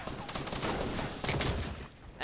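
Gunfire in the video game Fortnite, a quick cluster of sharp shots and bursts at moderate distance, some rapid and overlapping, against a busy game background.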